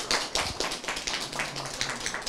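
Applause from a crowd at a school science and technology fair, a burst of dense clapping lasting a couple of seconds at steady, moderate loudness with no talk over it.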